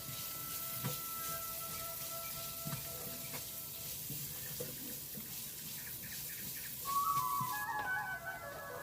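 Turmeric and salt sautéing in a pan for a Kerala yardlong bean stir-fry give a steady, soft sizzling hiss with faint clinks, growing a little busier near the end, with no talking.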